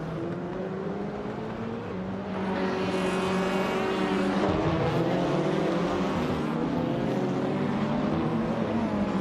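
A 2014 Abarth 500 race car engine in a racing video game drones loudly and steadily, pitch climbing and shifting through gears as it accelerates, another engine note layered beneath.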